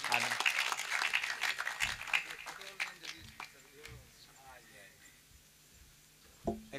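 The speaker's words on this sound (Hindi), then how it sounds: "संत के लिए तालियां, हल्की जोरदार तालियां।" Audience applause for a saint arriving on stage at a religious gathering, a burst of crowd clapping that fades over several seconds, with talking and background chatter around it.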